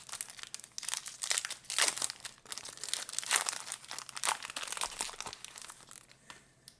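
Foil wrappers of Time Spiral Remastered booster packs crinkle and tear close up in irregular bursts of rustling, loud and alone with no voices.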